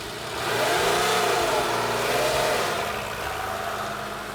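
A car engine revving up loud and close, its pitch rising and falling once before settling into a steady throaty rumble.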